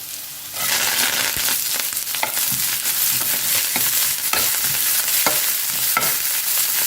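Ginger, chillies and curry leaves dropped into hot oil burst into loud, crackling sizzle that holds steady, punctuated by repeated scraping stirs of a ladle in the pan, close up and without speech.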